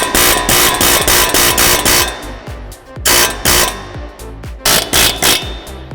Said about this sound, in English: we use the air hammer to help push the CV out since it's seated pretty tight in the knuckle